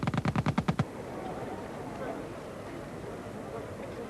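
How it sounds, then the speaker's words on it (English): Rapid machine gun burst of about eight sharp, evenly spaced rounds in under a second, loud and close, then cut off into a low rumbling background. "Machine guns could now fire 600 rounds a minute."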